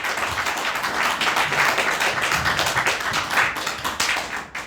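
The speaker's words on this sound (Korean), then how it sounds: "여러분 큰 박수 부탁드리겠습니다." An audience gives a big round of applause to welcome a lawyer and bestselling author onto a stage, dense steady clapping from many hands, loud and continuous throughout before tapering at the end.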